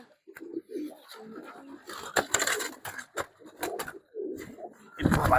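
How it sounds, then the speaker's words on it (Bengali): Pigeons of the Bezi breed, kept as army pigeons, coo low and soft in short repeated phrases, close by, with scuffling and flapping bursts as a young bird struggles while being held. "মাশাআল্লাহ বেজি কবুতর হাতে ধরা যায় না, খুব কষ্টকর, অনেক ছটফট করে"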